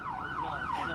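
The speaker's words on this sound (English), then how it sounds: "That's not our siren, by the way. That's an ambulance." An ambulance siren wails nearby in a steady rising-and-falling sweep, loud and continuous for the whole second, with faint traffic rumble beneath.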